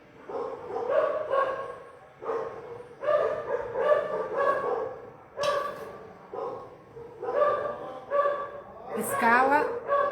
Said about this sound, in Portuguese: Tem um cachorrinho aí que tá judiando, tá? Fazendo concorrência comigo.